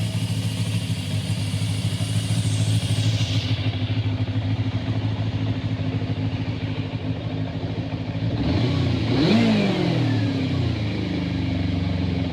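A motorcycle ridden around a backyard after being repaired, with new fairing bolts, bled brakes and fresh fluids, runs loudly and steadily up close, then its engine revs up sharply near the end before settling back to a steady idle.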